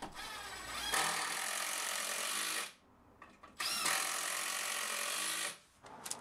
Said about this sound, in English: and then I could screw it all together